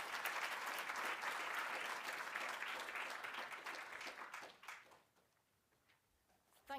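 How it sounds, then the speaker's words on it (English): An awards ceremony audience gives sustained, dense applause that fills the room, then fades out over the last couple of seconds. "please give a massive round of applause, Kerry Andrews."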